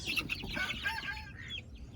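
Chickens cluck and squawk nearby in a brief busy burst, several birds calling over one another while ducks chase them.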